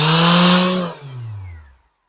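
A Makita 5-inch orbital sander fitted with 80 grit paper, set to speed 4, whirs loudly and close for about a second, then winds down with a falling tone as it stops.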